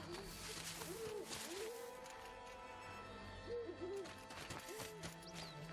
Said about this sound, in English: I hear owls